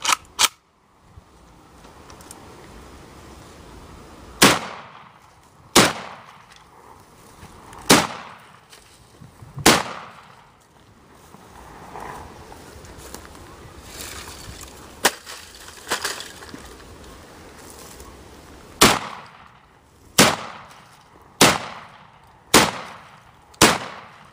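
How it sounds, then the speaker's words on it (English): A semi-automatic shotgun, a civilian version of the AA-12, fires about a dozen sharp, loud blasts outdoors, first spaced irregularly and then in a quicker run of shots near the end. "semi-automatic shotgun. It's a civilian version of the AA-12 basically"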